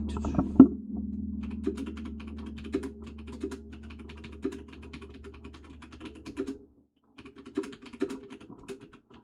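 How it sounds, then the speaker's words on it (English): Rapid clacking keystrokes on a very loud computer keyboard come in bursts with short pauses, close and alone, with a brief low hum at the start. "Really loud keyboard, I know."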